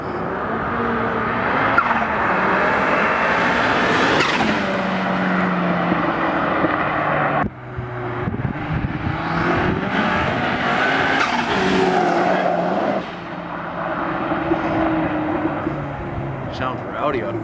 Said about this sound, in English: There's no real exhaust note. You just hear straight engine and turbo.